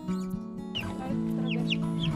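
A chicken clucks in short, squawky bursts over a steady background hum, several calls close by.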